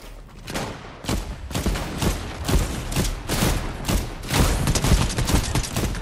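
Rapid gunfire in the Fortnite battle royale game cracks out in dense, irregular bursts of sharp shots, loud and close, almost continuous through the clip.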